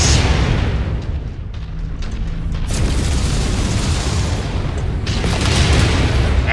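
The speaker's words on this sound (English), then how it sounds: "Ow, that was a cockpit hit." A cockpit hit explodes on a mech in the BattleTech video game, heard as a loud, dense booming blast with continuous rumble and two sharper bursts partway through, no talking over it.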